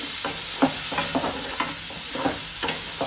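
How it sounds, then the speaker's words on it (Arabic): Onion frying in fish oil in a pan, a steady loud sizzle with a few soft stirring knocks scattered through it, no voices. "على طول اقلي البصله بزيت السمك لان فيه الطعم كله."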